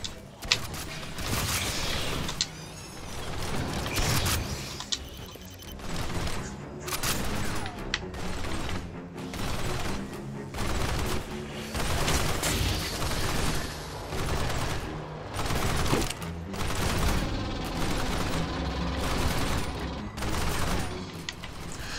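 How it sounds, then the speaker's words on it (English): Pulse rifle firing in Aliens: Fireteam Elite, long rattling automatic bursts repeating in close succession, loud and near, broken by short gaps across the stretch. "It's a pulse rifle."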